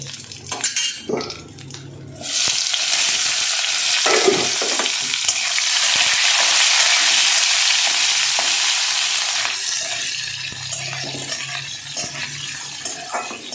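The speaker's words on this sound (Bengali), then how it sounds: "এদিকে দেখো ফোরনটা আমার খুব সুন্দর পুড়ে গেছে" A spice tempering (phoron) with turmeric fries in hot oil for dal. It bursts into a loud, steady sizzle that fades slowly, with metal spoon clinks and pan scrapes close by.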